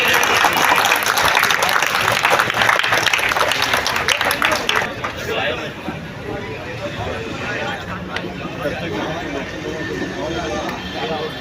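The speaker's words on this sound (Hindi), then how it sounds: "जोरदार तालियां कमजोर पड़ रही है।" Loud audience applause and a crowd greet the guest of honour at an NCP minority-wing felicitation event in Nalasopara. Dense clapping fills the first few seconds, then fades into steady hall murmur and chatter.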